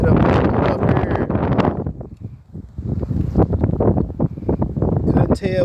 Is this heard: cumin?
no